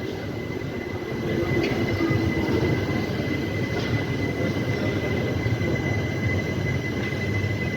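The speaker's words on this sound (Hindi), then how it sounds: "बरेली बनारस की ट्रेन है" Steady, loud rumble and rattle of the 14236 Bareilly–Banaras express train running, heard from inside a first-class AC coach, with occasional faint clicks and squeaks over the constant wheel noise.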